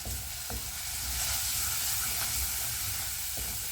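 Masala frying with chilli powder and garam masala for a clam curry with drumstick and potato, a dense close sizzle and hiss with a couple of stirring knocks, steady throughout and without talk.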